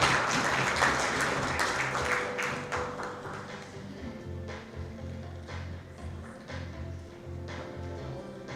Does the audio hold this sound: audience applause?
yes